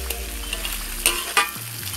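Sambal tumis with prawns and asam keping (dried tamarind slices) frying in a pan, a steady close sizzle with a few sharper spatula scrapes and stirs, no voices.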